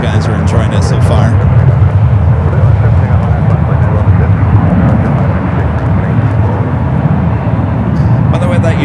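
A United 757 jet departing San Francisco International Airport for Dulles gives a continuous loud low roar that stays steady throughout, with a person talking over it.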